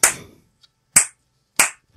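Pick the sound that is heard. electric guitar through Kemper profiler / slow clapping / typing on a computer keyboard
slow clapping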